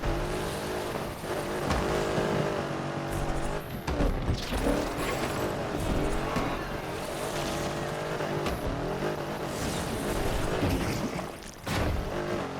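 Cars drifting in the video game Need for Speed Unbound, with loud continuous engine roar and tire squeal running through the whole stretch under game music, with a few sharp bursts along the way.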